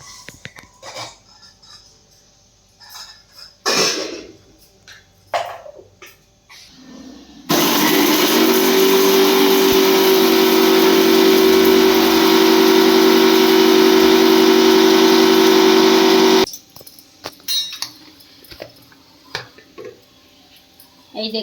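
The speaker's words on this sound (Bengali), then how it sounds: "জিরে, মরিচ আর শুকনো লঙ্কা আর লং এলাইচি একসঙ্গে পিষিয়ে নেবো, আর আদা রসুনটা পিষিয়ে নেবো মিক্সারে।" A kitchen mixer grinder runs for about nine seconds grinding cumin, pepper, dried red chillies, cloves and cardamom, a loud steady high whine that starts and stops abruptly, with quieter handling sounds before and after.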